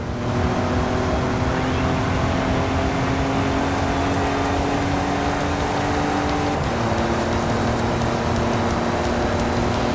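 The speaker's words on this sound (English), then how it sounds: "Let's head into the storm and find the perfect location." Heavy rain pours steadily over a car engine droning at constant speed in a rainstorm in the racing game Forza Horizon 5, a dense continuous wash with a slight engine pitch shift partway through.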